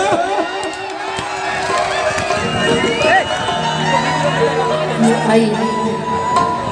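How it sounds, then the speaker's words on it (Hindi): Audience at a Bhojpuri stage show clapping and cheering together in a dense, steady crowd roar that carries on throughout, loud and close. "एक बार जोरदार ताली बजे।"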